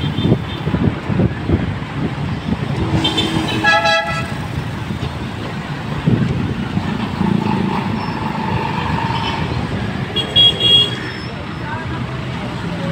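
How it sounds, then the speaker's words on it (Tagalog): Golden Valley Bus Line bus 110 bound for SM Davao passes in Davao city traffic and gives loud, repeated horn toots. Road and engine noise continue underneath, and someone talks over the scene. "Golden Valley Bus Line 110, bound for SM Davao Ikolan"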